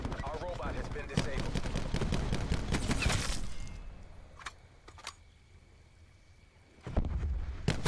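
Gunfire in Black Ops 4 as hostile forces shoot at the team's robot, a rapid volley of sharp cracks for the first three seconds, then scattered single shots and a final burst, all fairly distant.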